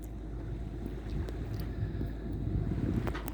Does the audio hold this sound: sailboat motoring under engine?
yes